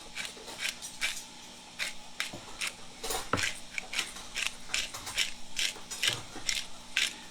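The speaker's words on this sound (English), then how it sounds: "This is just black peppercorns in this grinder" A pepper grinder cranks black peppercorns with rapid ratcheting, crunching clicks, close and fairly quiet, in repeated bursts with no talking.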